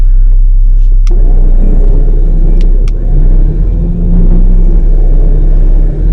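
A vehicle engine idles in gear, rumbling deep and loud up close while assisting a winch pull, with a few sharp metallic clicks over the steady low drone.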